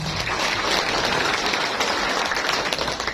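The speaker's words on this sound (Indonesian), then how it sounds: "Tepuk tangan dulu untuk mereka" An audience at a peace declaration event for Ramadan and Eid claps together, a dense, continuous burst of applause heard up close with no speech over it.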